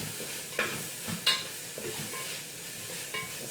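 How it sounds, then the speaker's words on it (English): Spanish chicken stew is stirred in a pot: quiet, soft scraping with a few light utensil clinks against the pot, two of them sharper, over a low, faint simmer. "Just going to stir that up a little bit."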